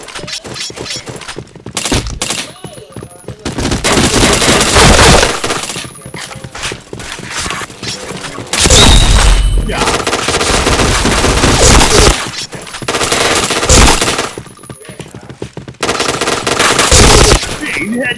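Rapid automatic gunfire from a shooting video game, loud and close, coming in dense bursts with short gaps between them across the whole stretch, with no voices talking over it.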